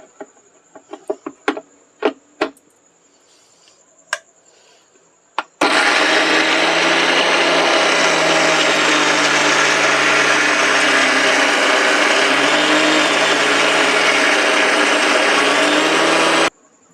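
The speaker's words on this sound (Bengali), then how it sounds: "ডালগুলোকে আমি একটা মিক্সিং জারে ভরে একটু বেটে রাখবো।" A mixer grinder grinds chana dal in a mixing jar with salt: a loud, steady whirring roar that starts abruptly and runs for about eleven seconds before cutting off, preceded by a few sharp taps and clicks.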